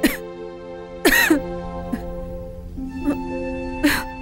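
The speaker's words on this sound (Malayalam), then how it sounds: "നീ വല്ലാതെ ചുമക്കുണ്ടല്ലോ." A girl coughs in several sharp, harsh bursts spaced a second or so apart, close and fairly loud, with short throat-clearing sounds between them in a quiet room.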